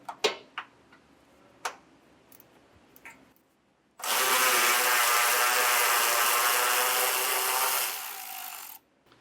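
A ratchet with a deep well socket works a bolt loose on a 2025 Nissan Kicks during a Curt Class III hitch install: a few sharp clicks, then a loud continuous buzzing run of about four seconds, close by.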